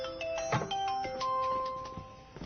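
A mobile phone ringtone announcing an incoming call plays a short electronic melody of sustained, steady tones, clear and alone without any talk.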